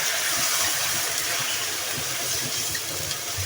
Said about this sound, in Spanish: Vamos a ponerle el vino tinto.